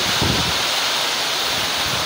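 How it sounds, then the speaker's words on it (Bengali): Strong, steady wind from Cyclone Remal roars and buffets the microphone on a rooftop in a continuous loud rush, with low gusting rumbles and no voices. "প্রচণ্ড হাওয়া দিচ্ছে, প্রচণ্ড গতিতে"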